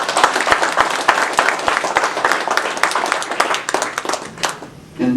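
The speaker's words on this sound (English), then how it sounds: "Let's give her a round of applause." An audience at a Holocaust event in Atlanta breaking into a round of applause, loud and close with dense overlapping claps that thin out toward the end before a brief sound cuts in.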